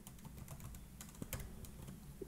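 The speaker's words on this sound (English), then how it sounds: "I'm going to type in" Rapid clicks from a computer keyboard as a search for Fractal FM9 cabinet models is typed in, keystrokes close and steady, with a few louder taps, and no one speaking.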